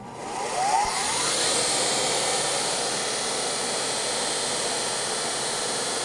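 A Heald 273A universal internal grinder spindle runs at speed, giving a steady, loud, high whine and hiss that holds constant throughout after a brief rise at the start.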